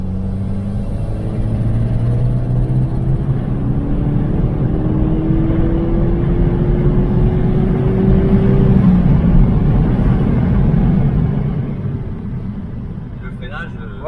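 A 2010 Seat Leon Cupra R with a stage 2 tune driving along, its engine droning loud and steady from inside the car with rising pitch through the gears as people talk over it.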